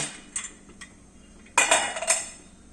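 A metal momo steamer pot is handled, with a couple of light clinks followed by a louder clatter and rattle as the lid is lifted. The sounds are close, with no speech.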